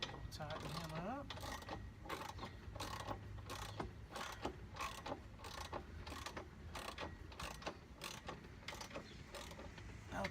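A ratchet wrench tightening bolts on a Stowaway 2 cargo carrier swing arm, with a fast, steady run of clicking ratchet strokes close by, alongside brief metallic scrapes and creaks.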